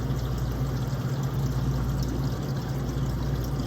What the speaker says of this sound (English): Water's starting to flow over the plate.